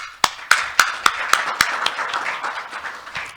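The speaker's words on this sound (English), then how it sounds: "I think we should give them a round of applause for changing the paradigm." Audience applause at a climate change research collaboration launch event: a handful of sharp, distinct claps in quick succession at first, then softening into a lighter, continuous patter of hands.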